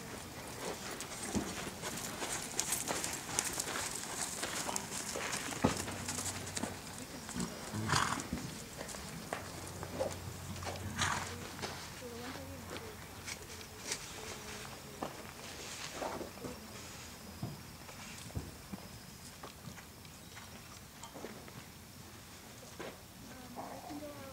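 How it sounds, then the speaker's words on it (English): Hooves of a horse trotting and cantering on a riding clinic course, soft rhythmic thuds at a moderate distance with occasional louder impacts, people talking now and then over the steady outdoor background. "Trot it once more, and whichever lead you land on, just keep going on that lead and then come around and canter it."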